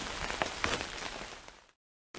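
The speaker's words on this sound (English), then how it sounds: "Stop raining." Rain falling in the fantasy dungeon-crawler RPG Underkeep, a steady hiss of drops on a surface with a couple of sharper splashes, cutting out abruptly into silence before briefly returning.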